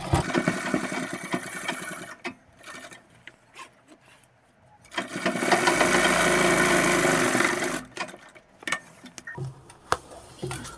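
A sewing machine stitches the fly of half elastic pants in bursts. A short run is followed by a pause with small handling clicks, then a longer, loud continuous run of about three seconds, then brief intermittent stitches and taps.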